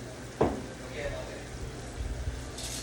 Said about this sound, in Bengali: মাছের মাথাটা আর আলুটা সদ্য সব কিছু মিশিয়ে একটু কষিয়ে নেব